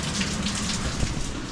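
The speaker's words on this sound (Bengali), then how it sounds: "দেখো আবার বৃষ্টি পড়ছে" Steady rain falls outdoors while wind blows, making a continuous broadband hiss of drops at moderate level throughout, with no voices.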